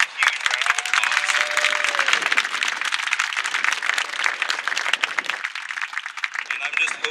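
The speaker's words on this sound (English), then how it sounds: "Can we give all the volunteers here a huge round of applause?" Outdoor crowd applause for volunteers at a compost site ribbon cutting, a sustained wash of clapping, fairly loud, with talk in the background and no distinct breaks.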